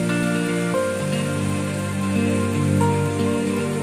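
Rain falls steadily in a continuous wash, mixed with a sustained tonal hum and no talking.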